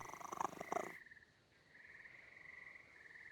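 A video-game cat being petted on the chin and ears: a close, rough purring mixed with a meow for about a second, followed by a faint, thin sustained tonal sound over quiet background.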